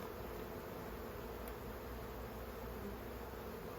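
Honeybees at a hive being calmed with smoke, a steady faint buzzing drone that holds evenly throughout with no voices.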